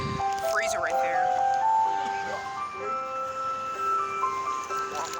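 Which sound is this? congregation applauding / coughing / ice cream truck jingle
ice cream truck jingle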